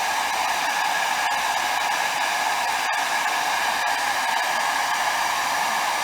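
A heat gun blows hard and steady while warming vinyl wrap stretched over a Porsche third brake light, a close, continuous airy roar with a few faint ticks and no talking.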